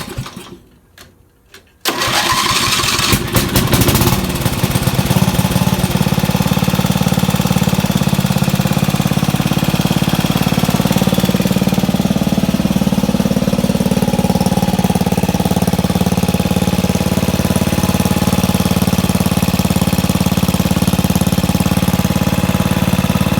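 A Craftsman or MTD lawn tractor engine cranks briefly, catches and settles into a loud, steady running drone that stays close and continuous to the end.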